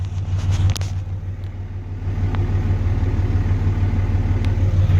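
A 5.9 Cummins H.O. diesel truck engine, warm, idles through a 4-inch straight-pipe exhaust with a deep, steady rumbling throb, loud and close, after a brief clunk near the start.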